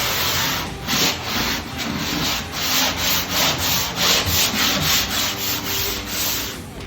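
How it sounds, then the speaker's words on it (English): Steady rhythmic scraping of sandpaper rubbing back and forth on a wall stripped of wallpaper, close and continuous, with regular strokes about every half second. "why I hate sanding so much"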